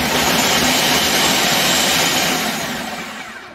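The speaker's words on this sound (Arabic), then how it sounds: "ويضرب في الخلاط ضربا مباحا ها حتى يستغيث." A steady, loud whirring motor with broad noisy hiss of a blender chopping colored bell peppers, holding constant before tapering off slightly at the end; no voices.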